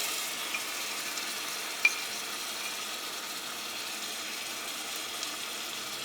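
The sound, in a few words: chicken frying in oil with coriander powder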